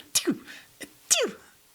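A voice imitates a tiny, dainty sneeze in the style of Pikachu, two quick high squeaky bursts a second apart, close and fairly quiet with a brief pause between them.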